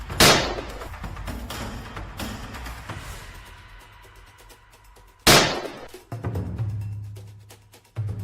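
Two sharp, loud gunshots several seconds apart during a wild boar hunt on a farm, each ringing out with a long echoing tail, with rustling and shuffling noise in between.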